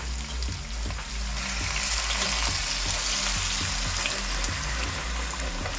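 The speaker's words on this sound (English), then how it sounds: "We have our wine. We're just searing it right now." Corned beef brisket searing in a pan with wine, a loud, steady broadband hiss and crackle filling the whole stretch, close up, with low hum beneath and no talking.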